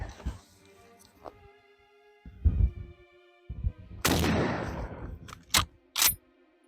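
Mosin Nagant rifle shots fired outdoors at a soda can, several sharp loud cracks spaced apart, with a broader burst of noise in the middle.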